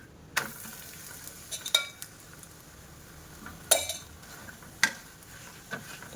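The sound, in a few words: carrot paratha roasting in ghee on a pan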